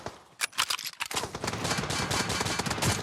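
Gunfire in the PUBG Mobile video game: loud, close bursts of rapid automatic fire with a few separate shots at first, then a dense, continuous stream of rounds.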